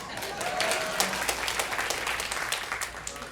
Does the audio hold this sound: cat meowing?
no